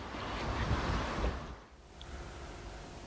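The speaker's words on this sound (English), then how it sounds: "it's pouring down with rain outside" Heavy rain pours down outside on a winter day beside a garden pond, a loud, steady wash of broadband noise that eases and thins briefly partway through before continuing.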